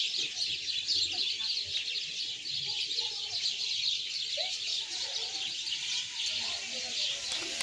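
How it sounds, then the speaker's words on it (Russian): Small birds, likely sparrows, chirp in a continuous bright chatter at a zoo near the big-cat enclosures, a steady dense twittering with faint low background rumble throughout. "По звукам здесь еще и воробьи живут."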